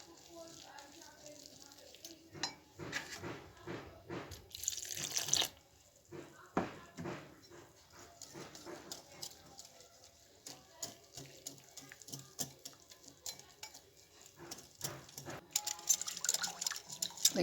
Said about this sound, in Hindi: थोड़ा थोड़ा पानी डालना है।